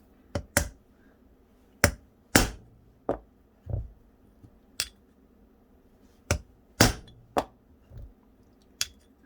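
A hammer strikes metal in a series of sharp, ringing blows, about a dozen, spaced irregularly with short pauses between bursts, while replacing front brake shoes and bearings.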